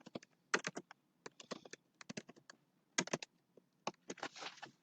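Fast, irregular typing on a computer keyboard, crisp close key clicks in quick bursts with short pauses and a rattling flurry near the end, with no talking.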